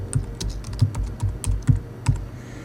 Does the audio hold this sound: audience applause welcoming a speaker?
no